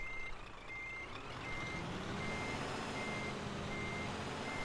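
A truck in Euro Truck Simulator 2 rumbles while backing up, its reversing alarm beeping at an even, repeating pace over a constant low engine drone.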